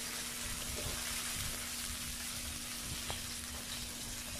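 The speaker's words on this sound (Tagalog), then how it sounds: "Igigisa lang po natin ito." Tomatoes sizzle steadily in a hot pan while being sautéed for a salmon-head sinigang, a continuous soft frying hiss throughout with no voices.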